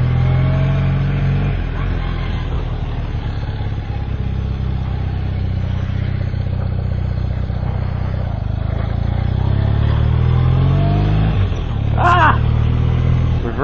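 A car reversing with its engine running loud and close, a rough, steady drone that swells in revs toward the end, with some clatter and a brief squeal.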